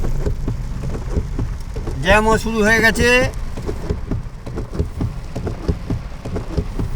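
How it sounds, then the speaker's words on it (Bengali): A heavy downpour drums steadily on a busy road at Chingrighata bypass, a dense continuous rain roar with passing traffic, while someone speaks briefly over it. "দেখতেই পাচ্ছেন মুষলধারে বৃষ্টি এসে গেছে"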